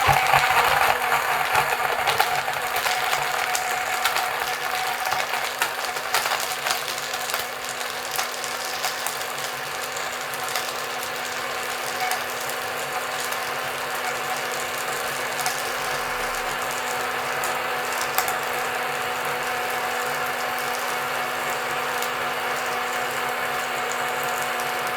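A budget Temu blender crushes ice and frozen fruit with a steady, close mechanical whir and grinding rattle that runs unbroken from start to finish, with a harsher, louder churn in the first seconds.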